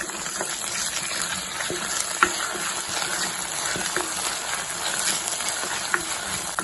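Ginger garlic paste frying in a pan with green chilies and onion for a Kerala-style fish curry, a steady broad sizzle with faint scraping stir strokes and occasional soft clicks, close and continuous, no talking.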